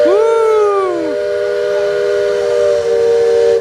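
Loud, close steam whistle of the Liberty Belle riverboat at Magic Kingdom's Frontierland: a bright multi-tone blast that swoops briefly, then settles into a sustained chord with a steam hiss, with no talk.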